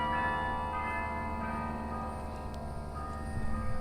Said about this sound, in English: We got church bells here